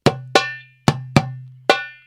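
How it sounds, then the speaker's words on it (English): A Maqsum rhythm played on a darbuka: five crisp, ringing hand strikes in an uneven pattern, close and clear, with deep resonant tones under bright slaps. "if you play the Maqsum, it will sound complete."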